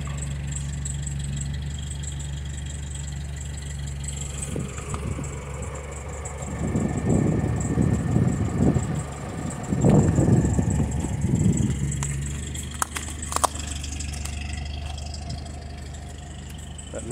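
Citroen D Special engine ticking over at low idle while its hydropneumatic suspension rises to normal ride height outdoors on a windy day, a steady low mechanical hum with a louder rattling burst in the middle, no talk.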